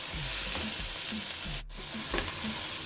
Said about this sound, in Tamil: இதை நல்லா வந்து வதக்கி எடுத்துக்கணும்